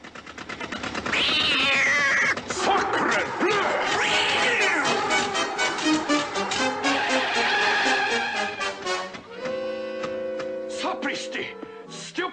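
Cartoon cat meowing and caterwauling loudly amid a busy animated scene, with drawn-out yowls over music and effects, and voices talking in the mix.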